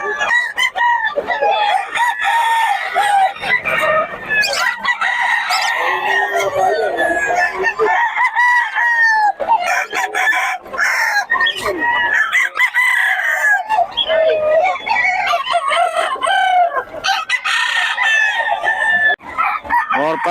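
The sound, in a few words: chickens and roosters crowing and clucking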